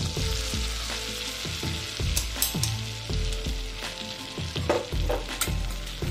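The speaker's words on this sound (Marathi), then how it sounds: "हलकसं याला भाजून घ्यायचं आहे आपल्याला, लालसर होऊ द्यायचं नाहीये" Flour roasting in melted butter as the base for a white sauce for pasta, a steady close sizzle with repeated soft scraping strokes of stirring and occasional sharper clinks, no talking.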